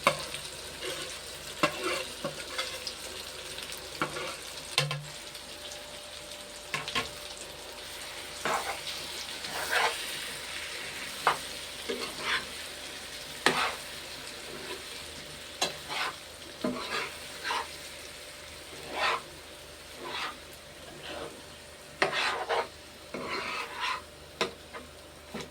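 Leftover spice paste sizzles and fries in a pan while a spoon stirs it, giving soft steady frying hiss broken by repeated scraping strokes, fairly quiet and close with no talking.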